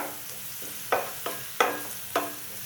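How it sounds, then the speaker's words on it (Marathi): Onion sautéing in a pan keeps up a constant sizzle, with four distinct stirring scrapes spaced roughly half a second apart. "कांदा व्यवस्थित परतून घ्यायचा आहे"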